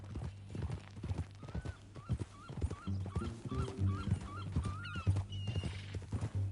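Steady clip-clopping horse hooves trot along in an even rhythm in Red Dead Redemption 2, with occasional snorts and a distant whinny over a low hum.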